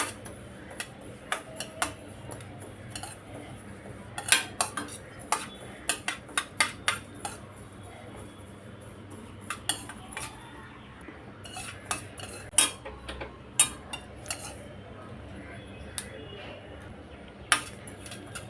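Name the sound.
lightly roasting mustard dal and fennel seeds in a pan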